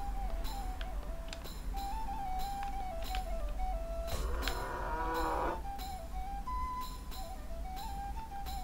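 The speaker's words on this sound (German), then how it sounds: "Hier gibt es doch nur Kühe." Cows on a farm in South Park: The Stick of Truth, several drawn-out moos repeating at intervals over a faint background tune, with one louder, rougher moo midway, fairly quiet overall.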